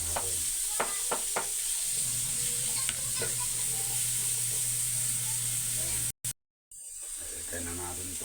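Garlic and onion frying in a pan for pork steak: a steady sizzle and hiss with scraping stirs and utensil clicks, close and continuous, briefly cut out near the end before resuming.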